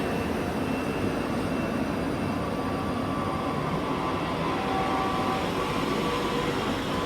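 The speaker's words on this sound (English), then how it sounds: "This must be on the 10:57 to Helensburgh Central, which is now departing out." ScotRail class 334 electric multiple units 334034 and 334013 departing Haymarket station in Edinburgh for Helensburgh Central, a steady broadband rumble of moving train that holds at an even level throughout, with no voices.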